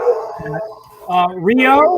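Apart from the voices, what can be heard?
dog barking at Amazon delivery person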